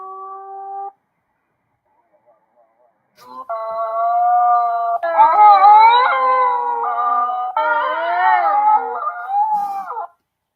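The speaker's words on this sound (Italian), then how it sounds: "vi ho fatto intanto sentire gli ululati, spero che si siano sentiti bene" Wild wolves in the Val Salatis area of the Friulian Dolomites, captured by a camera trap: a single howl, a pause, then several overlapping, wavering howls from a chorus of voices, sustained and clear.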